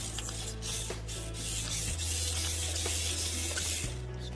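A steady whirring, hissing motor in an SCX24 RC crawler, with gears running and a constant low hum continuously, its pitch shifting slightly partway through, close by with no talking.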